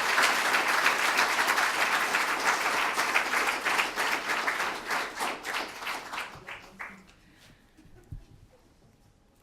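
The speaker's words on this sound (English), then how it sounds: "One more round of applause for Brent" A reception crowd claps in dense, sustained applause that gradually thins into a few scattered claps and fades out near the end.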